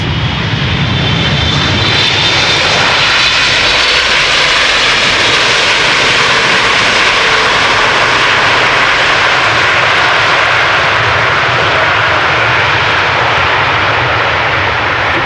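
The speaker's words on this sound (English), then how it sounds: "Air Canada, arriving from Toronto, flight 808" An Air Canada Boeing 777-200 long-range airliner, flight 808 from Toronto, arriving at Amsterdam Schiphol, its engines roaring loud and steady with a broad rushing drone throughout.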